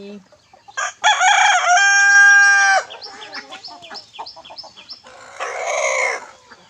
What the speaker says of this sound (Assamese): মই আজি মোৰ সোণালী কুকুৰাখিনি মানে সোণালী মুৰ্গীখিনি দেখুৱাবলৈ ওলাইছোঁ